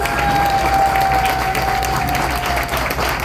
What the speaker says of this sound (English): And let's give Taryn a great big round of applause